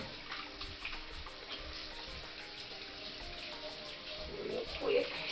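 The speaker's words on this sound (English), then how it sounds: "Let me wash my hands again." Tap water runs at a low level into a sink during a handwash in a kitchen while making elote street corn, a faint steady stream with slight splashing near the end.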